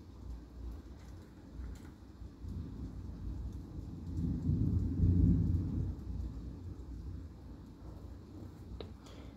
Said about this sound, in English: Because there's a severe thunderstorm here.